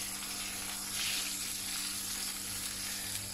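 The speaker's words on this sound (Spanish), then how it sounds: "seguimos friendo las manitas" Steady hissing sizzle of pig trotters frying in hot oil, continuous and close, with a faint electrical hum beneath and no voices.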